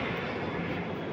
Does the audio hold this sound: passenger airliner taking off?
yes